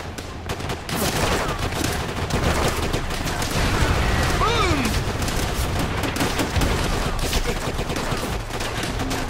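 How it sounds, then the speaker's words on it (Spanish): Japanese machine gun fire in the Call of Duty: World at War video game, a dense, continuous battle din of rapid gunshots and bursts mixed with explosions, loud and sustained throughout. "¡Ametralladora japonesa!"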